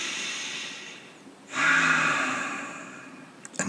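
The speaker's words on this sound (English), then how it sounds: "Breathing in through the nose." A single nasal inhale at close range, part of a breathing meditation: quiet at first, then a broad airy rush starting about halfway through that swells and slowly fades, ending with a couple of small clicks.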